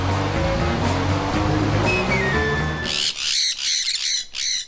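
A parrot lets out a run of harsh, loud squawks in quick repeated bursts during the second half, close by. Before them comes a steadier tonal background with some sustained notes.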